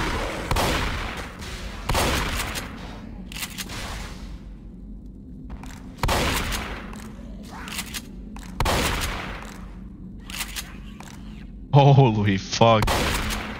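Rifle gunfire from a first-person shooter video game, loud bursts of shots recurring every couple of seconds with players talking over the action and an exclamation near the end.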